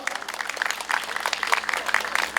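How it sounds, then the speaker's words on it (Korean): A crowd at an electrical workers' union rally gives warm applause to two branch leaders, a steady, busy clatter of many hands that continues evenly without a break. "두 분의 지부장 동지께 다시 한번 뜨거운 박수 부탁드리겠습니다"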